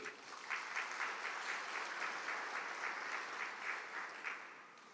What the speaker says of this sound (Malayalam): ഒന്ന് കൈയുയർത്തി കൈയടിക്കുക.